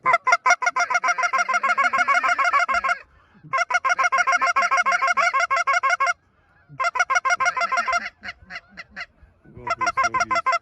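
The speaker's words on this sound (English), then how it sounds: "I'm going for the snow geese." Snow geese honk loudly and continuously during a goose hunt over water, a dense chorus of overlapping nasal calls in long bursts separated by brief pauses.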